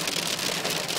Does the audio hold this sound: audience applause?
no